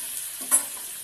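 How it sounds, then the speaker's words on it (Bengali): Capsicum frying in a pan with a light sizzle and a single quick stir of the spatula midway, short and close. "দেখো ক্যাপসিকামটা হালকা হালকা ভাজা হয়ে গেছে"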